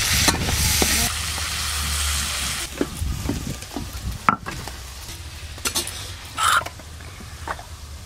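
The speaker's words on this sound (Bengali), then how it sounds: "এবার চিংড়ি মাছগুলো ভেজে নেব।" Prawns frying and being stirred in a hot pan, with a steady sizzle and occasional scraping and clatter of the spatula, loud and close with no talking.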